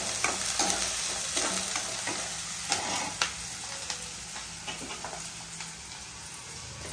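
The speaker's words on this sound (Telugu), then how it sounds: "ఉల్లిపాయలు కొంచెం రంగు మారే వరకు వేసుకోవాలన్నమాట" Onions and green chillies fry in a hot pan with a steady, close sizzle, while a spoon now and then stirs and scrapes through them in short, sharp clicks.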